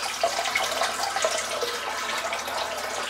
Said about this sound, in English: Just going to fill the sink back up,